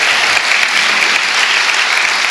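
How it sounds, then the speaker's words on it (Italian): Loud, sustained applause from an audience at a meeting, dense and even, with many hands clapping together throughout. "Quindi innanzitutto vorrei fare un grosso applauso a loro per aver trovato il tempo di essere qua con noi."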